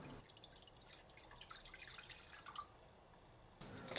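Water pours and drips into a cooking pot for a Chinese-style rice soup, a faint, steady trickle with light splashing and no talk.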